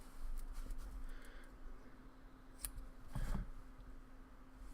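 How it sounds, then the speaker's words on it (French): Scissors trim cotton wick on a Wotofo Nudge 24 RDA, a few faint, close snips and small clicks against a quiet room hum, with no talk. "On lui refait une petite coupe derrière pour enlever toutes les petites mimies."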